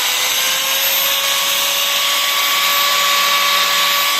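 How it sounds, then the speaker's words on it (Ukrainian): An angle grinder powered through a 1500W 12V inverter from a battery whines steadily at high pitch for several seconds, loud and continuous with a constant motor tone and no pauses. "Зараз я включу болгарку."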